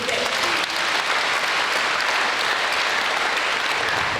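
Sustained applause from a church congregation at a Sunday Mass at Saint Louis Roi de France parish in Turgeau, steady and dense throughout with no voices rising above it.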